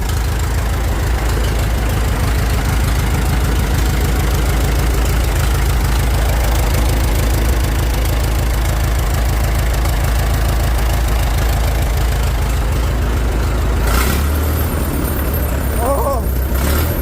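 The engine of a 1912 race car runs loud and close at a rough, steady idle, with an even pulsing throb that carries on unbroken and shifts slightly near the end.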